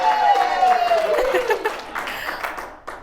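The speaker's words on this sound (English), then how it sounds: "Don't clap for him, audience." A studio audience claps and laughs briefly, the applause fading out over a few seconds while a voice talks over it.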